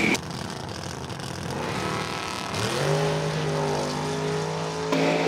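Drag racing at Numidia Dragway: a Mustang and a Chevelle launch, engines roaring loud with a rising rev and sustained drone that holds steady before cutting, no talk over the engine noise.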